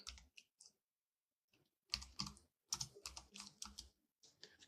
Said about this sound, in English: you probably hear my keyboard.